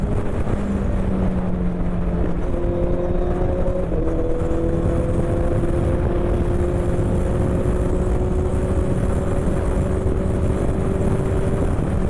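A Honda CBR650F motorcycle on a test ride after an oil change to MOTUL oil, its engine holding a loud, continuous drone under heavy wind rush, with a few gear changes and rising engine pitch.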